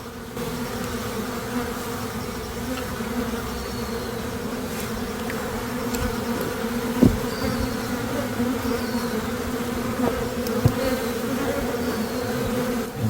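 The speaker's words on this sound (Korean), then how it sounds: "풀었더니 지금 벌이 떠가지고 여왕벌을 찾아야지" A dense swarm of native honeybees flies through the air on a mountainside after their hive collapsed in transit, making a steady, close buzzing hum that lasts the whole stretch, with occasional individual bees droning past.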